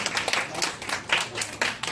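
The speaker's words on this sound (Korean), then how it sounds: "자, 나올 때 박수로 축하해주세요." A small group claps briskly in welcome as someone comes forward, an uneven, close patter of hands with no talk over it.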